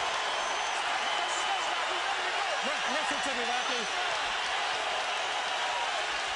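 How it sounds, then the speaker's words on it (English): A boxing arena crowd roars as a steady, dense wash of noise through the final round of a fight, loud and continuous, with a voice speaking over it briefly. "You hear that crowd?"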